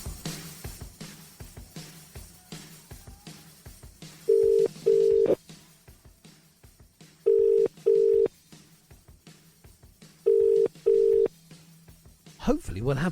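A telephone call being placed: three pairs of steady dialing or ringback tones sound at even intervals, each pair loud and clear over low background murmur, with a brief click near the end.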